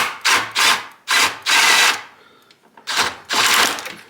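A power drill loosening the exhaust clamps during a cat delete and blow-off valve install, running in several loud, close bursts of about half a second each with short gaps between them.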